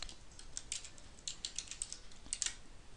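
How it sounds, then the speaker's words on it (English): Typing on a computer keyboard while entering a word into an Excel 2010 spreadsheet cell: a quick, uneven run of light key clicks at close range, with a sharper keystroke at the end and no talking. "I'll just type in that cell the word contact"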